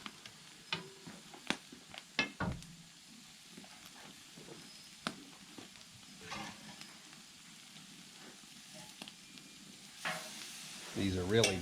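Large beef steaks from a custom-butchered steer sizzling over embers on an outdoor camp grill, a soft steady sizzle with scattered pops, ticks and clatter of handling.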